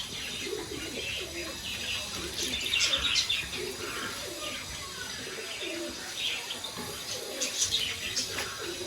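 Rampuri pigeons coo softly and repeatedly nearby, with a few higher chirps and a steady background hum.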